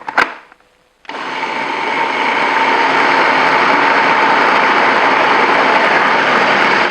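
A blender purees raw cranberries, whirring loudly and steadily for several seconds after a brief clatter and a moment of quiet, a dense continuous motor roar.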